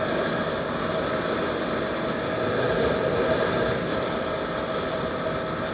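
A vehicle engine is held under heavy throttle on a hot day, producing a loud, steady droning roar that stays nearly constant from start to finish, with no talking.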